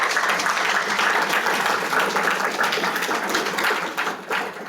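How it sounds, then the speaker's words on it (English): A large audience at a public policy forum claps continuously in a dense, even round of applause that tapers slightly toward the end. "Can we give them a round of applause as well?"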